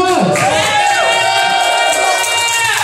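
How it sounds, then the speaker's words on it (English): A crowd at a live Dead Dog Dance event at AnthrOhio 2022 cheers, whoops and applauds, loud and dense with overlapping shouts and whistles. "Give a round of applause!"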